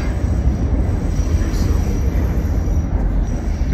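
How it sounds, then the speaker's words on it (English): A Chicago CTA commuter train rolls along with a loud, continuous low rumble and rattle of wheels on track, a steady droning ride noise throughout. "Right, on the train now."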